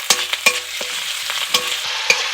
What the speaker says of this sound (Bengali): আমি এর মধ্যে আদা রসুন পেস্ট দিয়ে দেবো